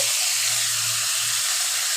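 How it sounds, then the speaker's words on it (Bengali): Fish heads lightly frying in a pan of oil in a home kitchen, giving a steady, even hiss and crackle that holds throughout with no talking. "আমি সবগুলো মাথা দুইবারে ভেজে নিচ্ছি"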